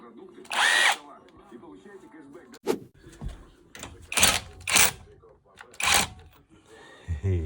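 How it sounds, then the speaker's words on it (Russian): Impact wrench spinning nuts off a Nissan Serena during roadside repair, heard as several short loud whirring bursts separated by gaps, with people talking in between. "Гайковерт! Гайковерт! Сейчас мы сменим тактику."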